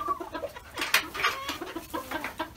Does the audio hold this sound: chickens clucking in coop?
yes